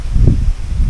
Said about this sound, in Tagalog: So mahangin,